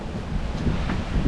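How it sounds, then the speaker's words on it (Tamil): Strong wind blows across the microphone during a climb up Sigiriya rock, a continuous loud rumbling buffet with no voices. "சூப்பராக காற்று அடிக்குது"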